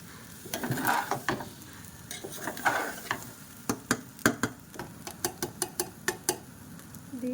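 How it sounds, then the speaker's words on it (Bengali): Spices, chaat masala with a little cumin, stirred in a pan with a spoon: a quiet run of scraping strokes and clicks in an uneven rhythm over a soft sizzle. "চাট মশলা, ভালো করে নেড়ে নেব।"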